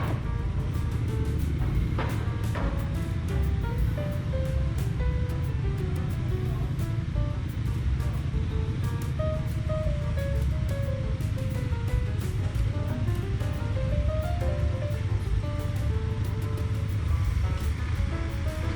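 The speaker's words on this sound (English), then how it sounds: "Here we go on the ferry." Ferry crossing with a constant low rumble of engines and rushing water, broad wash of noise throughout, with faint tonal sounds drifting over it.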